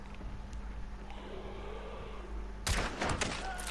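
A single loud gunshot from a headshot in Hunt Showdown cracks out suddenly after a quiet, low ambient lull, followed by a brief echoing rumble and a couple of fainter reports.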